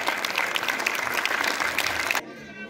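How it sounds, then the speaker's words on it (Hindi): Loud, dense applause fills a charity foundation's children's performance function in Gurugram, a continuous roar of clapping that cuts off sharply near the end, leaving a quieter room tone. "अगर ऐसा नहीं है तो प्लीज जोरदार तालियां दीजिए।"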